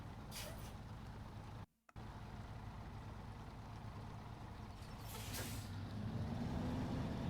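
A truck engine in the SnowRunner video game rumbles steadily at a distance, a low, quiet drone that grows somewhat louder and more insistent toward the end, broken by one brief dropout.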